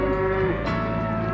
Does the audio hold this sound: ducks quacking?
no